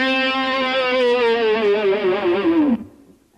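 An electric guitar solo note is played, the whammy bar pushed down so the sustained, effects-laden tone wobbles in a fast vibrato, sags in pitch near the end and then cuts off abruptly.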